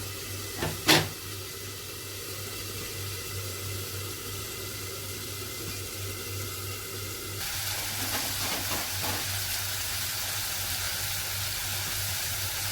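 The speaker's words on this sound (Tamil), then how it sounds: "ஒரு நிமிஷம் மூடி வச்சிடலாம். கொஞ்சம் வதங்கி வரட்டும்." Potatoes with spices fry in a covered pan, giving a steady close hiss and sizzle with a couple of sharp clicks near the start and a slightly louder crackle later on.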